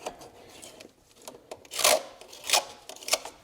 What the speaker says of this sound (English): I'll just take a little gasket scraper, clean up the mounting surface here